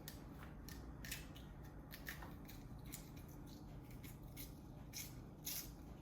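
Cassava root being peeled with a knife, close up: a steady series of short, crisp scraping and cutting strokes repeating every half second or so over a low background hum, with no talking.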